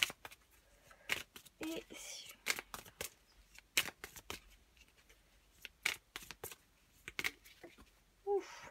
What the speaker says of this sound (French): vous avez 4 cartes